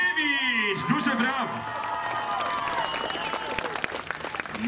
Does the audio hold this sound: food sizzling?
no